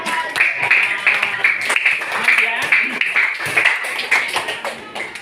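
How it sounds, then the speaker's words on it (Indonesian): Students clap together in a classroom after a group discussion, a dense run of many hands patting steadily and close by, with voices chattering throughout. "Kita kasih tepuk tangan semuanya"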